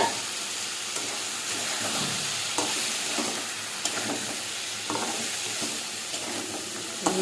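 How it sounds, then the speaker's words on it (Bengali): Fish frying in oil with a spice paste, a continuous crackling sizzle with occasional stirring scrapes, close and moderately loud. "এই ঝালটা বসিয়ে এখন মাছটা ভাজা হচ্ছে।"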